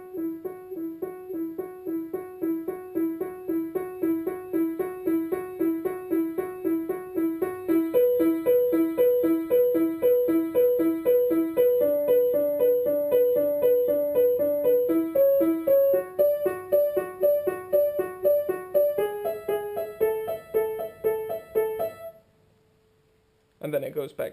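Solo piano plays the dubstep section of a song as a steady repeated chordal pattern that climbs gradually in pitch and volume, then cuts off briefly before a final chord.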